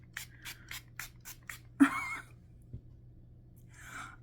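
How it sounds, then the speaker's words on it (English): A rapid series of short, soft spritzes from a bottle of Bella Pierre Cosmetics HD Setting Spray, followed by a longer hiss, then quiet and a final brief spray. "I forgot to try this Bella Pierre Cosmetics HD Setting Spray"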